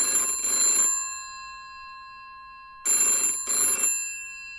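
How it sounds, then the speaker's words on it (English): A telephone bell rings in two bursts, each a pair of bright, trilling double rings, separated by a stretch of near silence; close and clear with no talk. "Phone's ringing, dude."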